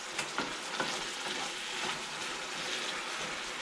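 A beef burrito meat mixture simmers in a pan, a quiet continuous sizzle with soft bubbling pops and occasional stirring, heard close up with no one talking.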